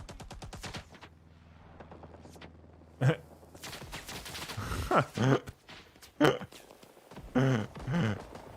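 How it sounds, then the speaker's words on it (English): A double machine gun setup fires in Rising Storm 2: Vietnam, with bursts of gunfire crackling at a distance and a few louder close shots breaking through, amid battlefield noise and some chatter. "Double machine gun setup as they cross."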